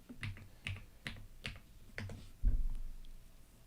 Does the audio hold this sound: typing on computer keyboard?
yes